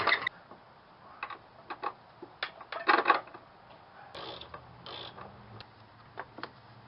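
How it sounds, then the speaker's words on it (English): A car jack is raised under a Toyota RAV4 during a control arm and bushing replacement, producing a series of uneven ratcheting clicks and creaks in short bursts, close and moderately loud, with no talking. "we got to jack it back up so we can get that bolt through"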